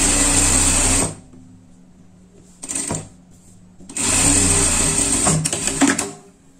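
Sewing machine stitching a seam on a pet outfit, loud close whirring in two runs of about a second and two and a half seconds, separated by quiet handling and a brief burst, no talking.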